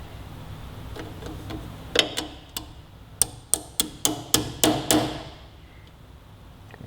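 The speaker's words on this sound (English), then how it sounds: "we'll go ahead and throw the cotter pin in now" Cotter pin being fitted into the rear axle nut of a 2018-2023 Kawasaki Ninja 400 sportbike, giving a run of sharp metallic ticks and taps, about eight close clicks in quick succession, near and alone without talk.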